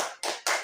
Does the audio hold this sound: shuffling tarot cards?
no